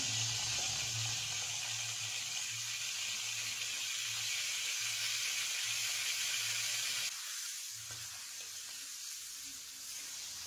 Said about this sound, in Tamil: கருவாடு நல்லா பொரியட்டும்